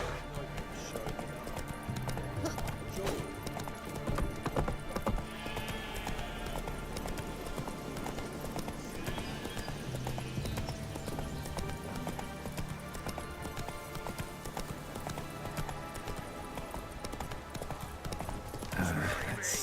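Hooves of a horse gallop in The Witcher 3: Wild Hunt next-gen edition, a fast, steady clip-clop rhythm running the whole time inside a dense bed of game sound and ambience.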